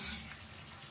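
Chicken afritada with bay leaf and pepper being stirred in a hot frying pan, a brief steady sizzle with soft scraping, moderately close and alone.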